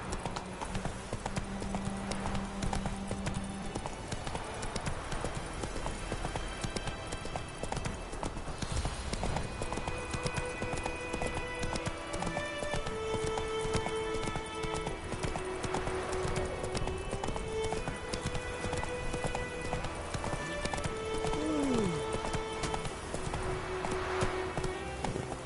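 Roach, a horse in The Witcher 3: Wild Hunt, gallops along with a rapid, steady clip-clop of hooves against game ambience and soft music, running continuously and fairly quiet.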